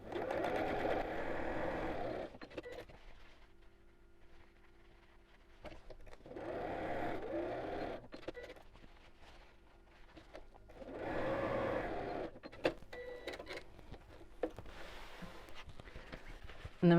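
A sewing machine stitches the folded corners of a fat quarter fabric storage box, running in three steady whirring bursts of a couple of seconds each, close by, with quieter handling between runs.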